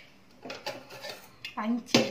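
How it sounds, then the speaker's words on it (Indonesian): An unbranded Teflon frying pan clatters and knocks in a series of close metallic bumps and scrapes, with a short bit of voice near the end. "Itu tadi teflon fry pan"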